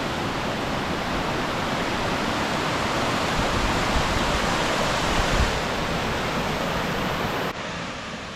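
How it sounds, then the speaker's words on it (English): A small waterfall near Crater Lake, Oregon, reached after a short hike, roars as a loud, steady, dense rush of falling water close by that drops off suddenly near the end. "you arrive at this little waterfall"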